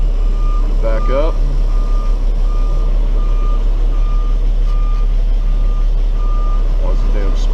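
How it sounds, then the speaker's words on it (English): A tow truck's backup alarm beeps steadily and repeatedly while the truck reverses, the regular tones sitting over a constant low engine rumble, close by. "So what I'm going to do now is I'm going to back up."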